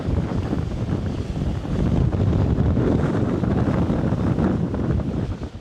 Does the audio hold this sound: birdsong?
no